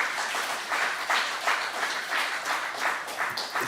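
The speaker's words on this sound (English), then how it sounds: "Let's give another warm round of applause to our chief guest." An audience at a distinguished speaker seminar gives a round of applause for the chief guest, continuous clapping with a slightly pulsing rhythm, moderately loud and without talk.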